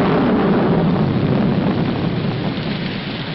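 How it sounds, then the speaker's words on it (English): Steady, heavy rain pours with a low thundery rumble underneath, a dense continuous wash of sound that stays loud throughout and eases only slightly toward the end. "Put this top up. It's going to rain."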